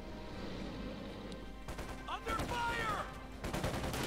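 Video game gunfire from a multiplayer tank-destroyer battle: a cluster of sharp cracking shots and bursts over a low rumbling battle background, with a faint speaking voice underneath.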